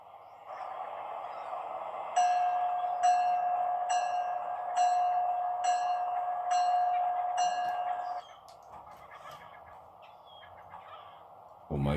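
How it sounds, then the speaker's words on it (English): Train approaching a level crossing: a steady warning tone sounds with regular ringing strikes for several seconds, then cuts off, leaving quieter rumbling before a brief sharp noise at the end. "Another train approaches,"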